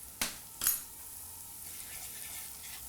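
Ground coriander, cumin and turmeric fry in a pan with a faint, soft sizzling hiss, opening with two quick clicks of a utensil against the pan.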